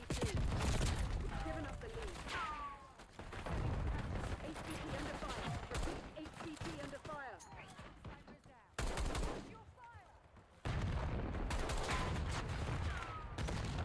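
Rapid automatic gunfire rattles through a Call of Duty match, dense bursts of shots stacking over each other with short lulls between, while voices talk over the action.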